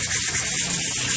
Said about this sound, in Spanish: vamos a lijar eso